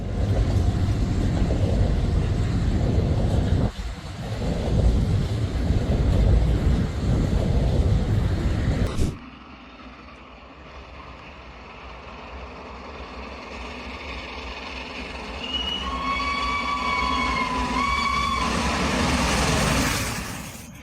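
Steam locomotive Tornado hauling a long train of loaded wagons, each around 80 tons: loud, steady, wind-buffeted rumble for the first nine seconds, then a quieter passage with bright tonal squeals rising and sliding over the continuing roar.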